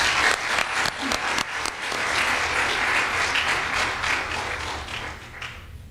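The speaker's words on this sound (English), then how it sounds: "let's give one more round of applause to Pranesh" Close, loud audience applause follows a mridangam arangetram performance by Pranesh, with dense clapping sustained throughout and fading slightly at the end.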